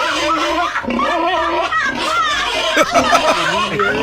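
A pig squeals in loud, wavering, high-pitched cries that run almost continuously, mixed with excited voices of people talking and laughing nearby.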